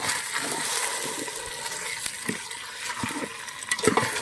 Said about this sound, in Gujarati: સરસ મિક્સ કરી દઈશું અને મસાલા અંદર સરસ સાંતળવા દઈશું.